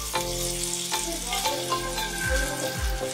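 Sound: water added to frying spices for koi fish curry

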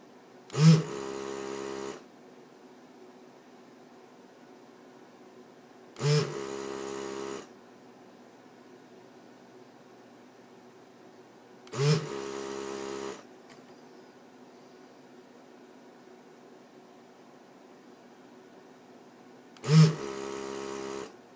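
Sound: desoldering tool sucking solder off laptop DC jack leads

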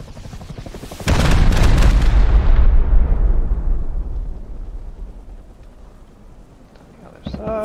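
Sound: rocket explosion in the video game Rust

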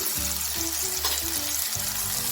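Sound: whole spices frying in oil for dal

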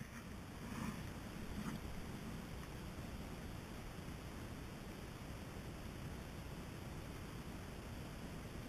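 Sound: paddling through water near an island shore

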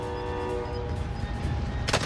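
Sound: train horn in Warzone video game

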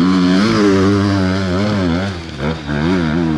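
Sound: four-stroke enduro motorcycle revving in quarry

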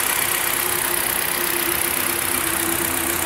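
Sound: car engine idling after Liqui Moly throttle body cleaning

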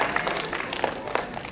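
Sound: audience applause at film premiere

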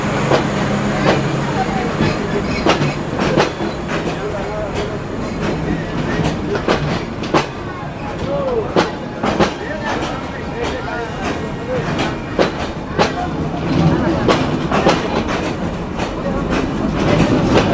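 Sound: Chitra Express intercity train departing Jessore junction

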